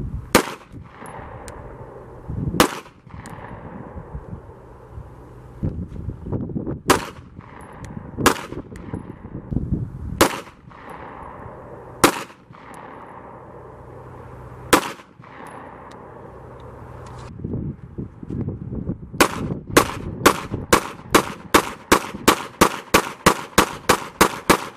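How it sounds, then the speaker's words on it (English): Pistol rounds of different calibers, full metal jacket and hollow point, fired at VISM Level IIIA soft body armor on a range: loud sharp shots spaced out, then a rapid string of shots near the end. "we put a lot of different rounds through here, a lot of different calibers"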